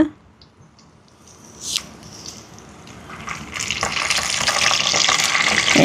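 Fenugreek seeds and curry leaves frying in hot sesame oil for a Jaffna prawn curry: quiet at first, then a crackling sizzle that swells and stays loud and bright through the second half, with no voices.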